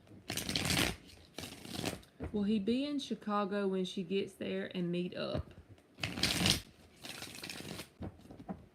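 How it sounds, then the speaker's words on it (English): Tarot cards are shuffled in quick riffling bursts at the start and end, while a person talks in between. "2 more shuffles."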